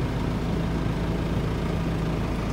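A small Kubota tractor with a 12-speed transmission runs steadily while hauling hay, its engine producing a constant low, close drone without change in pitch.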